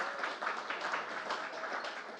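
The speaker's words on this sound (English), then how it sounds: "So how about a round of applause for Eric?" Brewery pub-talk audience applauding a guest speaker named Eric, a dense patter of many hands clapping steadily at moderate volume for a couple of seconds.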